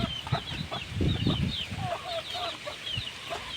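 Several multicolour Talang hens cluck and chirp softly nearby, with scattered bird calls and low rustling in the background.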